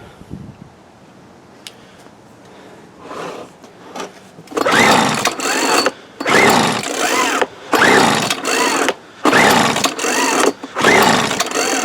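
A 1997 Weed Eater BV 1800 24cc gas leaf blower, carburetor suspected of trouble, sits quiet with small handling noises, then roars into loud revving bursts separated by brief dips, close by.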